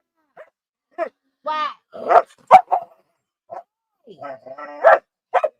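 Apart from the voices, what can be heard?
dog barking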